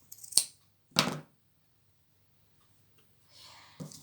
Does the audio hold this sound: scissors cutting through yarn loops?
yes